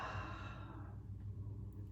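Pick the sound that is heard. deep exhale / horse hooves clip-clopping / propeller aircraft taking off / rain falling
deep exhale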